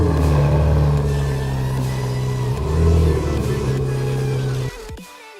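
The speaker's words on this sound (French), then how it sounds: "magnifique voiture" A car on the Croisette in Cannes gives a loud, close, sustained engine rev that holds steady for several seconds, then cuts off abruptly and leaves a quiet tail.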